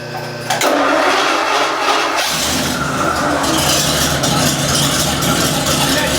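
A freshly restored Ford 292 Y-block V8 without a proper exhaust fires up and settles into a loud, raw, continuous running roar, revving higher a couple of seconds in and holding steady close by.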